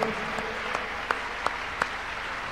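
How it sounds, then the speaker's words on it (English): Congregation clapping hands during a church miracle service, a steady wash of applause with a few sharper claps standing out, moderately loud and without talk. "Clap your hands unto God of the chosen."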